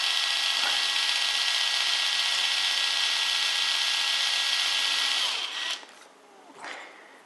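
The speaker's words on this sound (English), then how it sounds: "So you see, as I tighten the fixing up," A power driver tightens a heavy-duty fixing anchor into plasterboard, giving a steady, loud whirring drone for about five seconds before it cuts out, followed by a brief softer burst.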